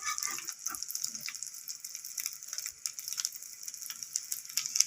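Lays potato chips frying lightly in a pan (kadai) with just a little oil, giving a steady soft sizzle with brief crackles and no talking.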